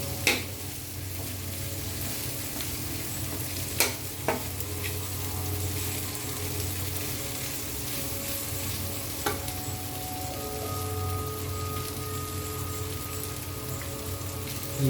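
Tofu dropped into a hot frying pan gives a steady, close crackling sizzle, with a few sharp clicks of stirring or utensil taps standing out over the continuous fry.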